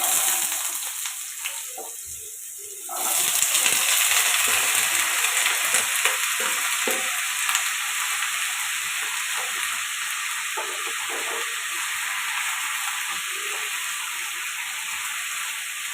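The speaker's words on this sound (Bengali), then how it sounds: "আমি আলুটা এখানে প্রথমে ভেজে নেবো" Quiet kitchen noise, then at about three seconds a loud, steady sizzle erupts as potatoes hit hot oil and keep frying.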